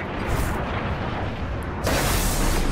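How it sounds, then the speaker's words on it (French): A grenade goes off in the video game Destiny as a dense, roaring blast that carries on throughout, with a fresh surge of explosive noise near the end. "Grenade très bien placée"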